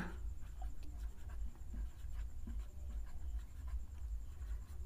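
Pen or chalk writing during a Class 10 geometry lesson on circle angle theorems, soft scratchy strokes in short bursts, faint and close, with no talk over it.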